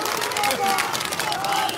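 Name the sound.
audience applauding to welcome MP Raju Bista at a rally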